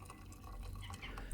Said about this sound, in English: all I'm going to do now is add boiling hot water to it, and this is distilled water